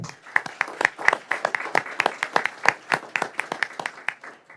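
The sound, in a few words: applause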